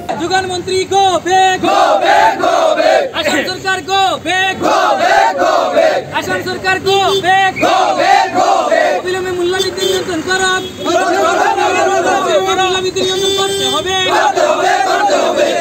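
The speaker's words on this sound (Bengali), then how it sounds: "শতাধিক প্রতিবাদকারী কেন্দ্র ও রাজ্য সরকারের বিরুদ্ধে বিভিন্ন স্লোগান দিয়ে পরিবেশ উত্তাল করে তোলেন" Crowd of protesters at a rally against the central and state governments over petrol and diesel prices, chanting slogans loudly in rhythmic call-and-response bursts, dense and continuous with shouting voices throughout.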